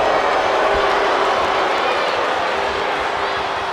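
A virtual arena crowd in the WWE 2K20 wrestling game keeps up a steady, dense roar of cheering and murmur, loud and unbroken throughout.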